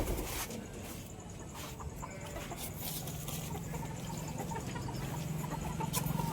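Chickens cluck inside a coop with egg-laying boxes, a steady murmur of soft clucks and calls against a constant noisy background, moderately distant and faint.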